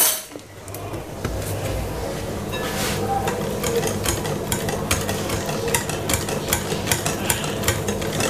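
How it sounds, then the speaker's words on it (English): Waffle batter with corn oil just added being whisked in a bowl, a steady loud churning with rapid rhythmic clicks of the whisk against the bowl, continuous throughout. "And just give it a lovely whisk like this"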